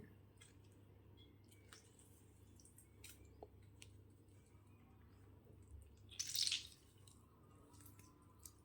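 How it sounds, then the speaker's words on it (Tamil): A lemon squeezed by hand while making a ground-masala fish curry gives one brief, wet squish near the end, over a quiet kitchen background. "லெமன் புழிஞ்சிக்கலாம்"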